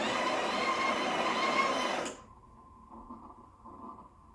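A Breville Barista Express BES870 grinds coffee beans at a coarser setting. The steady, loud burr-grinder whir runs for about two seconds and then cuts off abruptly, leaving a low motor hum and faint rattling.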